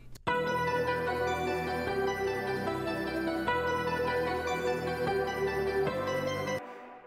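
Two layered synth patches play sustained notes alongside a main melody, a dense tonal pad with shifting chord changes every second or so, continuous and fairly full, with no talking.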